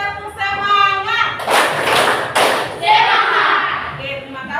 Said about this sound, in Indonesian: 3 kali tepuk semangat